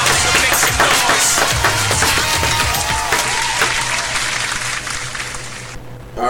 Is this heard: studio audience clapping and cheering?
yes